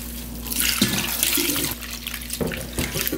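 Boiled castor bean leaves are rinsed in water, giving a steady splashing and sloshing close by, with a few heavier swishes as the leaves are moved around, with no voices.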